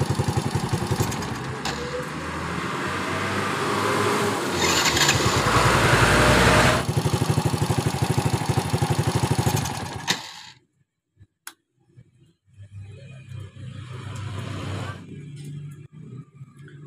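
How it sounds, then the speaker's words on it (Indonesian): A Honda Supra Fit motorcycle engine idles loud and rough, then abruptly cuts out and dies when throttled, leaving quieter clatter and faint sounds afterward. "jadi motor ini dihidupkan langsam, jika digas langsung mati"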